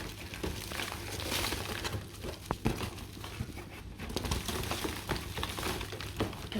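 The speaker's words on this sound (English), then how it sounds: "Look at all that really dry compost coming out." Dry compost tipped out of an amaryllis pot indoors, a soft continuous patter and crumbly rustle with a few small knocks, quiet and close.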